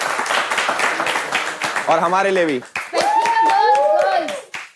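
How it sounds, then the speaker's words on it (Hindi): A live audience at a gaming reality show claps together, a scattered, rolling round of clapping partly under loud overlapping voices and excited shouting. "एक बार अपने लिए ताली बजा दो"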